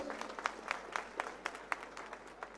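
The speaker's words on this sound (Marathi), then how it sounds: "एकदा जोरदार टाळ्या होऊन जाऊ दे हनुमान शेठसाठी" Applause comes from an audience at a Shiv Sena political rally, a loose patter of individual claps heard somewhat distant and faint, ragged rather than rhythmic.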